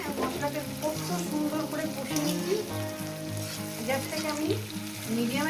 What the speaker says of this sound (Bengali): দিয়ে মশলাটা কষাচ্ছি